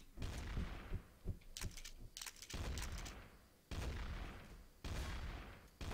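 Gunfire in the Trouble in Terrorist Town video game, several sharp bursts and repeated shots cracking in quick clusters, fairly loud and close, with no talk over them.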